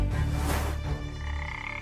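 Frog croaking in a terrarium, one loud, low, vibrating croak that runs continuously for about two seconds, close to the listener with no other sounds.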